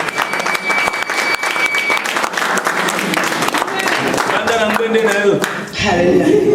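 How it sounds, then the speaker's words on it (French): Church congregation bursting into loud, sustained applause, clapping steadily and densely throughout, with a few voices calling out over it. "Bien-aimés, acclamons la parole de Dieu."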